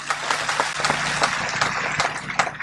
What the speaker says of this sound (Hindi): आप लोगों ने तालियों से मेरी बात का स्वागत किया है